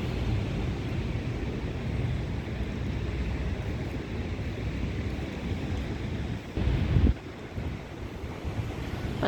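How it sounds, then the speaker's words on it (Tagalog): Big Pacific Ocean waves at The Entrance on the Central Coast of NSW, a steady surf roar mixed with heavy wind buffeting the microphone, one louder gust near the end. "Lalaki ng alon."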